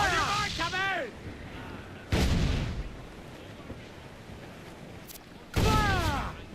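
In a pirate ship battle video game, two loud, close cannon blasts boom a few seconds apart, each a broad, heavy burst with rumbling decay, alongside brief whistling cries.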